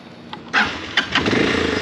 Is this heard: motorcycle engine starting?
yes